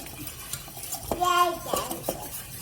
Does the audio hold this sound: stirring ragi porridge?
yes